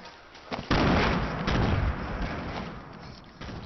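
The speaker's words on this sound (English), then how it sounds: "I see you guys are shooting with grenades" Grenade blasts in a Fortnite battle royale match: a sharp loud burst near the start, then a long rumbling roar and a smaller thud at the end, with no voices.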